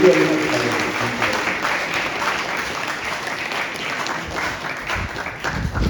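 A church congregation applauds at a feast day and First Communion Mass. Sustained clapping fills the room evenly and fairly close, with a voice heard faintly at the start.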